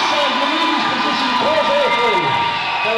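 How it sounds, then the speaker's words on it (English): Crowd cheering at a roller derby match between Belgium and Japan, a dense continuous roar of many voices with shouts and whoops, loud and close, with a commentator's voice running over it. "Crowd are loving it."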